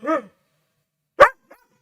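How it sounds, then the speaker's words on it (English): A dog barks loudly and close by indoors, two sharp barks about a second apart followed by a faint short yip, with no talking. "So you guys probably can't hear me very well because the dog's just barking at me."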